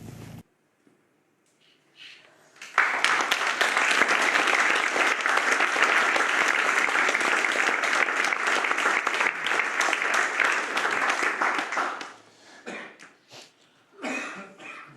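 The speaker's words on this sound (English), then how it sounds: "That clapping's for you two." A large audience claps loudly and steadily for about nine seconds at a public meeting where sub-postmasters question a minister, then fades into scattered claps and a cough or two.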